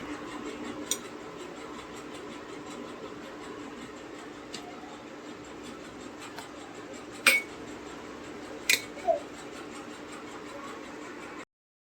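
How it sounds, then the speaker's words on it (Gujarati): Stuffed eggplant curry being stirred in a pot, a quiet background hum with a few sharp metallic clinks of a spoon against the pot, two louder ones close together near the end. "ફાઇનલી આપણે જો શાક મૂકી દીધું મસ્ત મજાનું અને હલાવી નાખીએ એકવાર."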